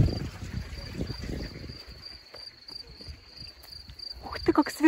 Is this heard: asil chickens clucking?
no